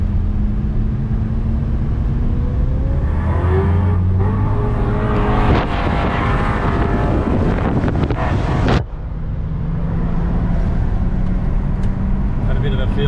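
Drift car at speed on Queensland Raceway at night, engine drone steady and loud under heavy wind buffeting on an onboard mic, with revs rising and falling and a brief dip near the end; voices talk over it.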